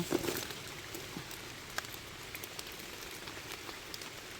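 Steady rain patters on a surface, a dense soft hiss with scattered drop ticks, fairly faint and continuous throughout.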